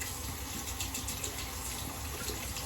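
Tap water runs steadily in a sink to rinse a British Gillette No. 58 safety razor, a continuous close hiss and splash with no talk.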